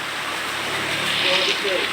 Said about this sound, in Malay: Di sini keadaannya lagi hujan-hujannya ya teman-teman. Hah? Dah balik li. Hujan deras ya.